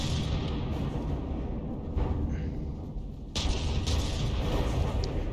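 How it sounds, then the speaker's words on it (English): Warship guns in From The Depths keep up a dense barrage of high-explosive and flak shells, a steady loud rumble of overlapping blasts with a sharper burst partway through. "she fires a lot of shells and scores a lot of hits."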